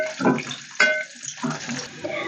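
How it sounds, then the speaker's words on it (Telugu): Water from a glass is poured into a pan of semolina (sooji) for upma, heard as a few short, close splashing pours with brief pauses. "3 గ్లాసులు వాటర్ అయితే నేను వేసుకుంటున్నాను"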